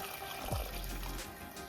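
Water pours into a pot of Jamaican pumpkin rice holding pumpkin, carrot and coconut milk, a steady close gush lasting a second or so over faint background hiss.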